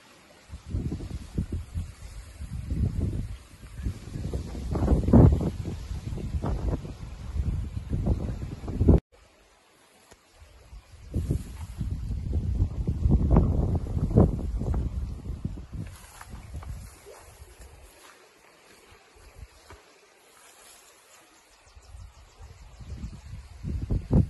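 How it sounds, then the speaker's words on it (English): Gusty wind buffets the microphone on an abandoned steel railroad bridge, producing rumbling low roars that rise and fall in strong surges with a brief lull, loud and close, with no voices. "Okay, now the wind's gotten up."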